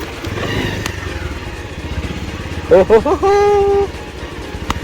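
A Pulsar motorcycle engine rumbles and revs over bumpy off-road ground with some rattling, while a voice speaks over it.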